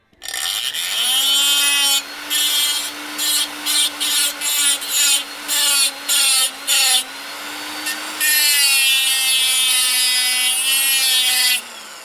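Grinding wheel being trued with a piece of iron, a loud steady scraping whine with a drifting tone, broken into a rapid run of short bursts in the middle before settling back into continuous grinding.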